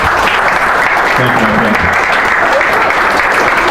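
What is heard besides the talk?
audience applause at meetup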